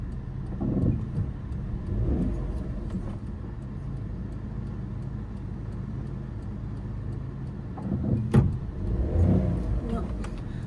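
A car's engine idles and strains during an uphill hill start on a slope, running as a steady low hum with two brief swells as the vehicle rolls back, while people talk over it throughout.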